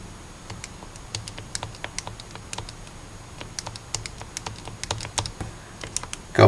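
Quick, irregular clicks of fingers pressing keys on a calculator keypad while entering matrix coefficients, close and fairly quiet, with no talking.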